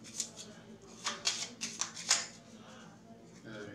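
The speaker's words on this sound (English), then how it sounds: "So, I'm going to reshuffle this deck here." A deck of game cards is shuffled by hand for a tabletop game, giving a quick run of soft riffling bursts close by, quiet and with no talking over it.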